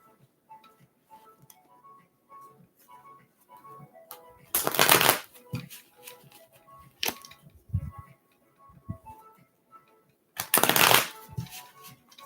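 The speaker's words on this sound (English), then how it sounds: "Let me shuffle good for you, Marsha." Tarot cards shuffled by hand during a live reading, two loud riffling bursts separated by quieter card handling and light tapping, with no voices.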